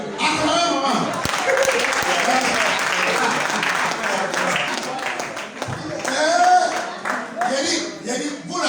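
A church congregation applauds loudly and steadily at a Sunday service, the clapping sustained for several seconds, with a voice speaking over it near the end.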